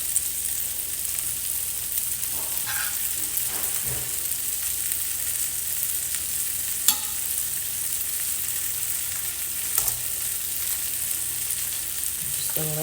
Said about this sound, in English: I'm going to just put these mushrooms all over in here on top of them while they're cooking all the way through now.